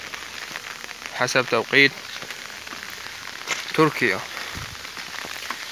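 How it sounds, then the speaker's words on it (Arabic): Steady rain patters on surfaces throughout, while someone speaks in Arabic over it in two short bursts. "اليوم المطر خير خير وبركه خير. اسمعوا صوته"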